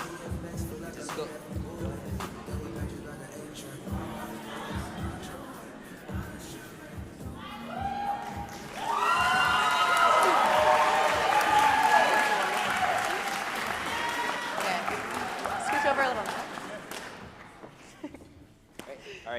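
Audience applause for the 2023 Spencer Prize in Oratory contestants at the grand championship. Scattered talk and claps come first, then full, sustained applause swells and fills the hall for several seconds before fading out.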